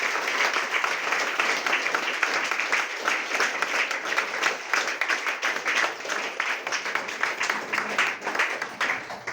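An audience at a motivational gathering breaks into enthusiastic applause, many hands clapping in a close, rhythmic, slightly pulsing stream that keeps going throughout.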